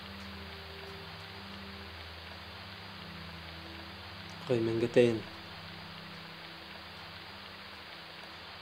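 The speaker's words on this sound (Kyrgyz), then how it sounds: "Эште жамгыр жаап жатат." Steady rain falls outside, a constant soft hiss that runs the whole way through, with a brief exchange of voices near the middle.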